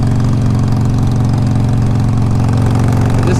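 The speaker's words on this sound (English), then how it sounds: "This bike definitely runs pretty good. It is the 883R" A 2007 Harley-Davidson 883R fuel-injected motorcycle engine runs steadily and loud at close range, a continuous low throbbing idle with no voices over it.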